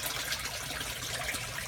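Water trickling and splashing through a gravel grow bed with red worms in a recirculating aquaponics system, a steady close liquid babble that stays constant throughout.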